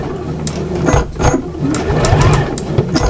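A sewing machine sews a cushion seam over a zip, running in a steady, close mechanical whir with uneven surges as the needle works through the thick spot.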